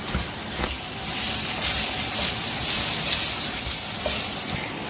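Bell pepper sautéing in oil in a pan sizzles in a steady, loud, continuous hiss, with faint stirring clicks near the start and no voices.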